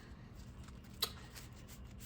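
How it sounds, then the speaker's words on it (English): Trading cards from a racing card game being shuffled by hand: a faint, soft rustle of cards throughout, with one sharper snap about midway. "Shuffle our cards up real quick."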